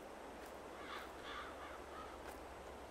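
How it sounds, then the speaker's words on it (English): Birds in the Farming Simulator 22 video game give a few faint, distant crow-like caws over a constant soft background hiss. "what are those birds doing?"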